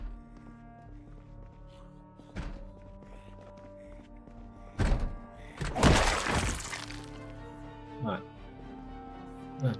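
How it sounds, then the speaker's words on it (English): Zombie pounding on a door in the survival game Project Zomboid, irregular heavy thuds and cracks, one burst louder and longer than the rest, with quieter knocks spread through and talk underneath. "He's going to be banging on that door for the next 10 years."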